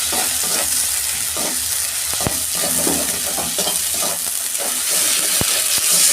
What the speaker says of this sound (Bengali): অল্প ঝাল লঙ্কার গুঁড়ো দিচ্ছি। দু মিনিট আমি কষতে নেব এটা।